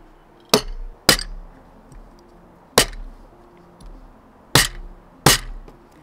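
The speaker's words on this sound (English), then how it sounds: "I would highly recommend getting a hammer and cracking some plates." Five sharp, bright cracks arrive at irregular intervals as a hammer strikes and breaks ceramic plates, each clear and close against a quiet background.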